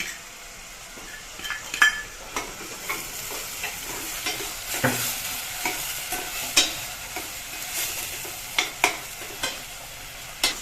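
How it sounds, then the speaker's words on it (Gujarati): Onion, chili, tomato, ginger and garlic paste frying in a pan with mustard seeds and cumin for paneer tufani, soft sizzling under repeated scraping and clinking as a spoon stirs, irregular strokes, close and fairly quiet, without speech. "હવે જે આ પેસ્ટ બનાવી છે એ નાખશું. ડુંગળી, મરચાં, ટમેટા, આદુ લસણની પેસ્ટ નાખશું."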